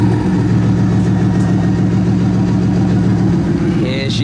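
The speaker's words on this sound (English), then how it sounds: "That is such a rumble. Very loud, very powerful, very menacing." Loud, deep engine rumble from a Bugatti Vision Gran Turismo race car idling nearby, steady and throaty throughout, with a short high-pitched squeal at the very end.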